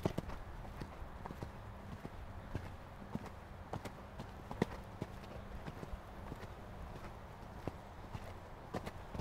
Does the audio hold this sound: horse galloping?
yes